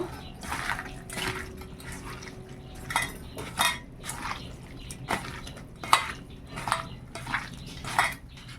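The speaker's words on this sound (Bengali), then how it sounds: "এইবার আমি ভালো করে মাখিয়ে নেব।" Raw prawns are mixed by hand with turmeric and Kashmiri red chilli in a bowl, making close, wet squelches and irregular clinks against the dish, with sharper knocks growing more frequent toward the end.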